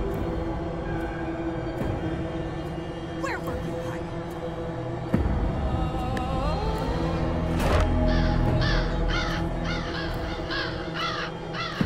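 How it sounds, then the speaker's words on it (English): Crows caw in the horror video game Remothered: Broken Porcelain. A cluster of harsh caws rises late over a steady, droning ambient game background. "The weird thing is that she has pet crows."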